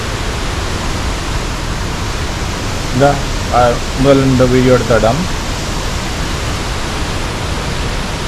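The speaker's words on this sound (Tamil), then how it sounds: "சரியான வேகமாக போய் கொண்டு தண்ணி." Fast-flowing mountain water rushes in a steady broadband roar, loud and continuous throughout, with someone speaking over it partway through.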